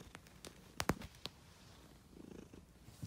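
Cat purring steadily while being brushed with a Wahl deshedding glove, a soft close rumble with a few brief sharp rustles and clicks of handling near the start.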